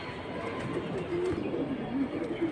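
Fancy pigeons such as Bisha Khaki and high-flying Silver birds coo in soft, low, repeated bursts at close range, over a murmur of background bustle.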